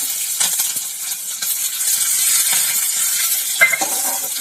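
Curry leaves, green chillies and small shallots fry in hot oil with a bright, hissing sizzle that swells and settles, with a few light clinks from a utensil against the pan.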